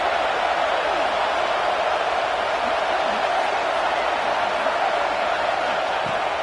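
Steady roar of a packed crowd at a Florida Gators American football game, a dense continuous wash of stadium noise with no breaks, loud and enveloping throughout.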